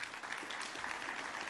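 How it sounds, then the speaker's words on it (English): Crowd applause at a Midland Chamber annual meeting, honoring the Odessa Chamber: a dense, steady patter of many hands clapping for a brief moment. "give the Odessa Chamber a round of applause as well."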